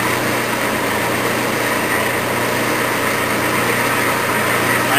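A Clausing Atlas Logan metal lathe runs steadily during a threading pass with the half nut engaged, giving a loud, continuous mechanical hum and whine close by, with no talking.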